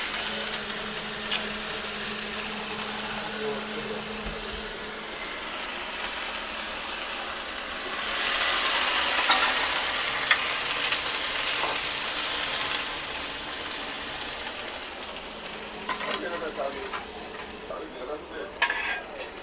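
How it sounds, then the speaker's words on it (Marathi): Washed field beans (vali) go into a hot pan with fried onion, setting off a loud, steady sizzle and hiss that swells with steam midway, with stirring scrapes near the end and no talking. "धुवून स्वच्छ वालीची भाजी घालायची।"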